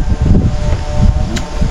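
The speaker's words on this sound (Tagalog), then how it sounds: "At grabe ang lakas ng hangin, ang ginaw" Strong cold wind blows around a house in the morning, a loud, continuous rumbling roar with gusty surges close to the microphone.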